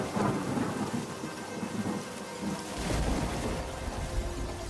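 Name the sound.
rain and thunder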